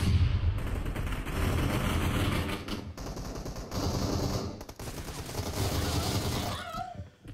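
Gunfire in PUBG Mobile comes as rapid, continuous automatic bursts, loud and dense, with short breaks between volleys and a brief dropout near the end.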